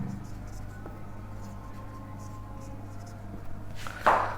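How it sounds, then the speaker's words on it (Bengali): A pen scratches across paper as a math solution is written out by hand, with soft, continuous strokes over a low room hum, ending in a louder rustle. "তাহলে আমরা লিখি সমাধান"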